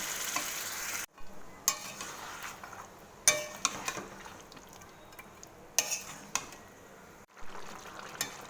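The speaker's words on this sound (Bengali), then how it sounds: "এবার মাংসটাকে ভালো করে মশলার সাথে ভালো করে কিছুক্ষণ নেড়ে নেব।" Chicken stirred with spices in a hot pan, a spoon scraping and clacking against the metal in irregular bursts over a steady close sizzle, with brief pauses between stirs.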